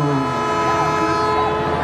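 A comedian's voice imitates a train on stage, a loud, sustained horn-like hoot with a steady droning tone that holds for about two seconds without any spoken words.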